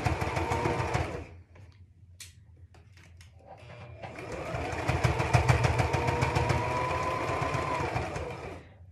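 A sewing machine stitches a seam on a child's hat in two runs: a short burst, a pause while the fabric is adjusted, then a longer steady whir that carries on to the end.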